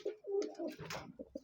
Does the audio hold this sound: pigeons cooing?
yes